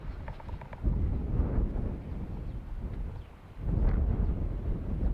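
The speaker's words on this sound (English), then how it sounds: "there's a bit of wind action" Gusty wind blowing across an open outdoor campsite in the Australian bush, a steady low roar that swells loudly, eases briefly, then surges again into heavy buffeting against the microphone.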